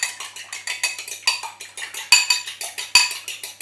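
Instant custard whisked in a bowl: rapid, steady strokes of a whisk against the bowl with a light clinking, scraping rhythm, close and clear, with no talking.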